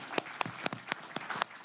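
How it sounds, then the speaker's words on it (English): Audience applause at a university leadership talk, heard as a few sparse, separate claps spaced roughly evenly, fairly quiet and close, with no crowd roar behind them. "That deserves some applause,"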